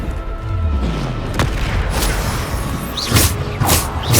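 Bombarda explosion spell cast in Hogwarts Legacy, a loud booming blast with a deep rumble, followed by sharp crackling bursts and whooshing hits that come close together.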